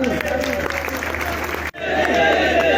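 A crowd at a gathering in Pakistan welcoming a Sri Lankan manager claps loudly and steadily. Talk runs over the applause, which breaks briefly before resuming.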